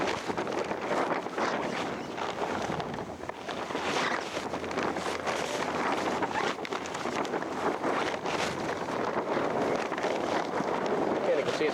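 Breezy wind blows beside a Seaward 32RK sailboat during mast raising. It makes a steady, gusty roar buffeting close to the microphone, with a voice faintly present underneath.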